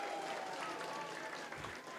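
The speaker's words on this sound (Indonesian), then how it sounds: "Tepuk tangan buat panitia" An audience at the opening of a student arts and sports event at an Islamic boarding school applauds the organizing committee, a fairly faint, steady patter of clapping with voices mixed in.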